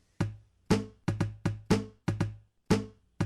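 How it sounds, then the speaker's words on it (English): Makeshift snare drum from an open wrapping paper tube layered with a cup, eight sharp, papery cracks in a steady groove, close and crisp with quick decays and no talking. "For the snare drum, I'm going to combine the open wrapping paper tube and the cup sound."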